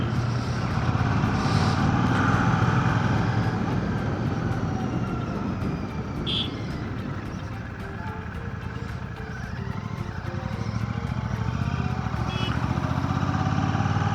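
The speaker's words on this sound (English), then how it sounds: "we will go near this truck and see how the noise picks up" A truck rumbles steadily close by, heard through a helmet-mounted motorcycle vlogging mic with the visor closed, with a low continuous drone of engine and road noise over about fourteen seconds and no talking.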